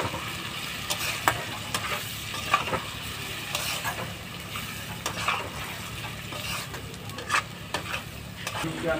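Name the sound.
stir-frying spice paste with coriander powder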